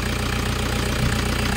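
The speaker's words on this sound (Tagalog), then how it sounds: "Yan yung andar ng Toyota Hiace mo, sir." A Toyota Hiace GL van engine idles steadily up close, a low, even rumble with a faint periodic knock and no voices.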